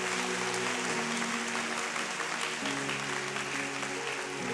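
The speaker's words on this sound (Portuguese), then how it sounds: "Quem acredita, aplaude mais uma vez ao Senhor." A church congregation applauds steadily through a revival conference service, the clapping dense and continuous, with sustained instrumental notes underneath.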